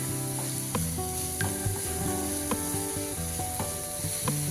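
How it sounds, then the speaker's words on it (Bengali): Chopped garlic frying in hot oil for paneer cutlets, a steady close sizzle with occasional sharp clinks of stirring, over soft background music and no talk. "এটা ভাজা হোক, তার সাথে সাথে দিয়ে দিয়ে রসুন কুচি"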